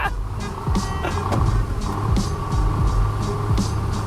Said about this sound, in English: Just give them a slight push with your KAMAZ truck.